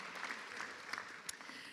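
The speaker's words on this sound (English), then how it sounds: "Big round of applause." Graduates and guests at a college graduation ceremony applaud: steady crowd clapping heard at a moderate distance in a hall, even and continuous with a few sharper individual claps standing out.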